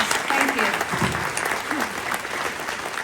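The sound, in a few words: applause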